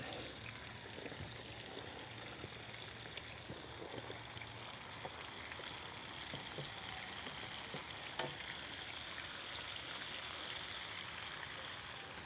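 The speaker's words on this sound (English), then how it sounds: "I'm also frying potatoes" Potatoes fry and sizzle in an 18-inch skillet, a faint, steady crackle with occasional stirring clicks.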